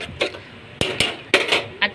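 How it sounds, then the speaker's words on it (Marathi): Ginger garlic paste stirred in oil in a metal pan for a mutton curry, a spoon scraping and knocking against the pan in several sharp, uneven clinks and scrapes, close and fairly quiet. "ही आपण मस्त अशी हलवून घेऊया."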